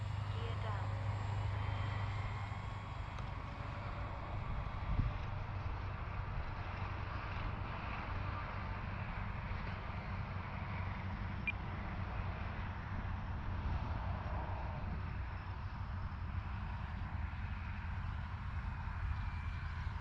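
A Dynam BF 109 RC model airplane flies a slow, low landing approach with its gear down. Its motor gives a steady, moderate drone mixed with wind noise the whole time, and a person talks over it.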